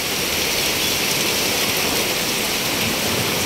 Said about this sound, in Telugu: ఘోరమైన వర్షం అన్నమాట ఇది